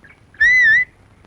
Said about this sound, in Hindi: किसने बजाई सीटी?